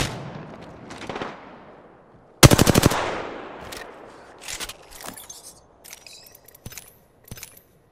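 Gunfire in the shooter game Apex Legends: a faint fading shot, then a loud close rapid burst, followed by scattered single shots and short pops separated by quiet gaps.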